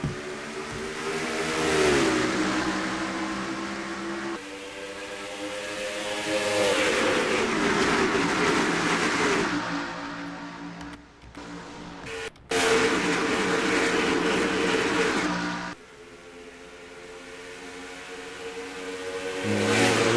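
Race cars roaring around Indianapolis Motor Speedway, the Brickyard, in a racing video game, engines revving and shifting up through the gears, loud and continuous, with passes that swell and fade.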